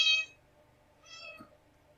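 A pet cat meows twice, a short clear call at the start and a second softer, drawn-out meow about a second later, close and alone in a quiet room.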